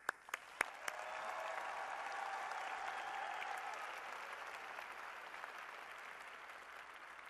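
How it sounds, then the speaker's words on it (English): A few sharp claps open, then broad sustained applause from a large crowd at a robotics competition opening ceremony, fairly distant and even, slowly tapering. "let's give a big round of applause to all the FIRST volunteers"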